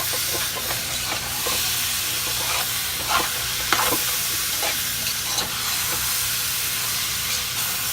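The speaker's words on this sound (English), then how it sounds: "now I'm gonna mix this season together" Seasoning being stirred into Liberian collard greens sizzling in a pan, a steady loud frying hiss with repeated scraping strokes of the spoon and a few sharper clinks, no talking.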